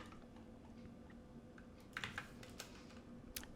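Quiet, close clicking of a computer keyboard as a search query is typed, with scattered keystrokes and a few quick bursts over low background hum.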